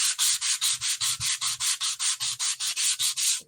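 Sandpaper scrubbing a handmade wooden speaker before mineral oil goes on, in about fifteen quick, even back-and-forth strokes, close and steady with no voices.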